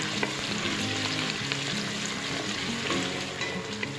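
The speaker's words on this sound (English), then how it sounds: "We let it saute until it is soft." Onions and a bay leaf sautéing in a pot for coconut rice, producing a dense, continuous frying crackle with steady stirring scrapes, close and fairly loud with no speech.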